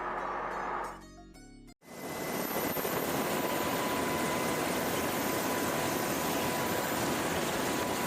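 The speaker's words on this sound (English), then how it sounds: "An MH-60 Seahawk from Helicopter Sea Combat Squadron, HSC-12, performs a simulated search and rescue" An MH-60 Seahawk helicopter near the aircraft carrier USS Ronald Reagan during a simulated search and rescue, a loud continuous rotor and engine roar that swells in after a brief dip and holds steady.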